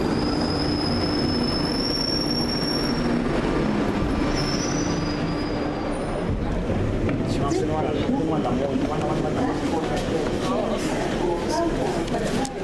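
A London Underground tube train pulls into the station at Euston, with wheels squealing and rumbling loudly through the whole stretch while people talk over it.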